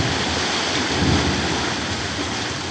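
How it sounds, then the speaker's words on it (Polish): Roaring, bubbling hot spring at the Dragon's Mouth geyser cave in Yellowstone, a steady loud churning rumble with dense watery turbulence and no letup, heard up close without voices. "bulgoczące źródła w środku, które wybijają."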